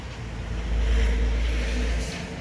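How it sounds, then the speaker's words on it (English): Low rumbling road noise swells as a vehicle passes close by, a deep roar peaking in the middle and fading away. "Sorry for the road noise."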